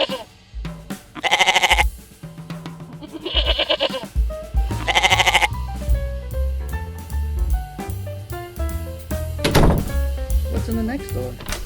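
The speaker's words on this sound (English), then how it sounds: "Oh, it's a goat." Goat bleats three times in quavering cries from a farm-animal hide-and-seek toy board, set over a busy, tuneful backing with door clunks.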